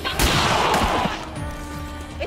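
A single sharp gunshot in XCOM 2, a loud close crack with a brief rumbling tail that fades over about a second, no voices.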